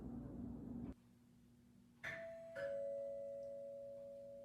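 After a faint background hum, a home doorbell rings a clear two-tone chime, the second note ringing out and slowly fading.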